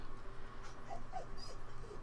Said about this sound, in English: I know there's another puppy on the other side of that door.